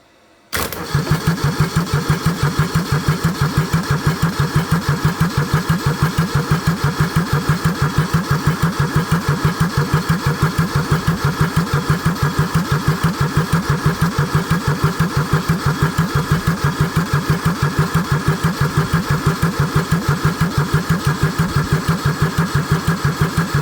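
A Kubota D640 diesel engine fitted with a D722 head, with a heat gun warming the intake, catches after a brief silence and runs steadily with a loud, rapid clatter that continues unbroken throughout.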